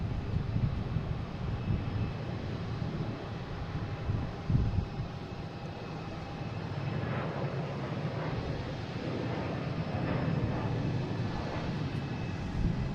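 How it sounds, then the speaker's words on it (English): A JetBlue Airbus A321neo taking off at Boston Logan airport, a broad distant jet-engine roar holding steady throughout with wind noise on the microphone. "we have a JetBlue taking off, heading to Barcelona, an A321"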